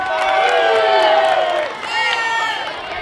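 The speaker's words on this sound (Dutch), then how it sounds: "En daar wil ik even een applaus voor." Children and adults cheer, whoop and shout for volunteers at the opening of a hut-building week, a loud crowd roar with high excited voices and a few claps.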